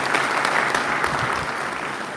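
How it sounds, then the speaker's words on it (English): A round of applause for the Honorable Minister at the closing ceremony of the agricultural census in The Gambia, steady dense clapping from a gathered audience filling the whole moment. "I want you to give another round of applause to the Honorable Minister"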